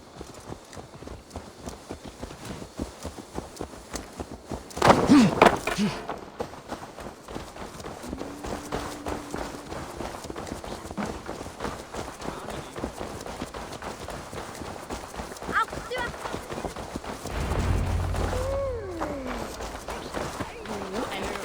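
Horse hooves clip-clop at a steady walking pace in the Assassin's Creed Valhalla video game, a continuous rhythmic clatter mixed with game sounds, with voices speaking over it at moments.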